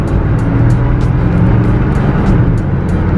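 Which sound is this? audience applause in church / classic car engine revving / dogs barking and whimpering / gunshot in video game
classic car engine revving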